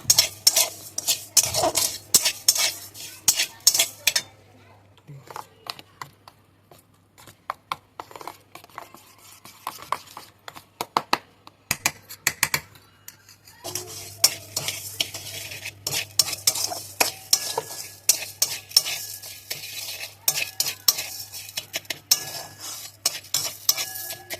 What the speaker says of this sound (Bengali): এবার গ্যাসটা মিডিয়াম রেখে এটাকে আমি নাড়তে থাকবো